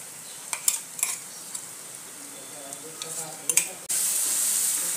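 Chopped garlic, ginger and green chili are stirred into softened onions in a pan for brinjal bharta, with scattered spatula scrapes and taps, then a sudden loud sizzle near the end.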